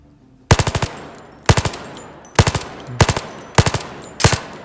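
Gunfire in the VR shooter game Zero Caliber: six loud bursts spaced about a second apart, each a rapid rattle of three or four shots, close and with no talking.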